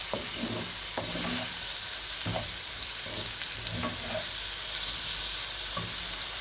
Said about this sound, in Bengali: এখন আমি ভালোভাবে এটা নেড়ে চেড়ে দিব।